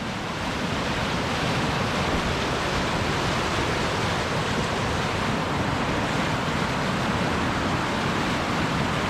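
Rushing river waterfall in wild Scottish landscape, a steady, dense roar of falling water close by, loud and unbroken throughout with no voices.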